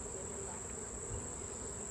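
Honey bees swarm around a hive being opened for honey harvest, agitated by the disturbance, giving off a steady, dense buzzing drone that stays even and fairly close for the whole stretch, with no talk.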